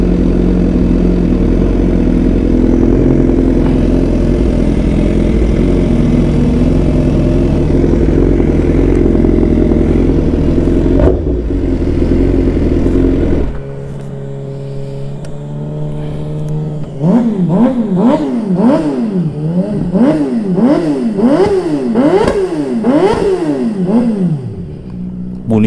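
A Suzuki GSX-S1000 GX sport motorcycle engine idles loudly, then drops and revs repeatedly in sharp rising and falling bursts, close by with no talking.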